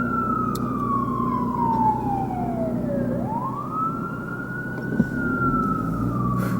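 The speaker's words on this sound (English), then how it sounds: "we will pause here for the annoying sirens" Emergency vehicle sirens wail outside, with a loud wailing tone that falls and then rises again over a steady low traffic rumble. No talk is heard.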